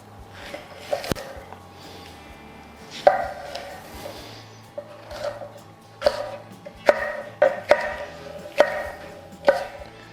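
A knife chops chili peppers into fairly large pieces for an oxtail soup, giving sharp, close, irregular cuts against a board that come in quick clusters, with no talking.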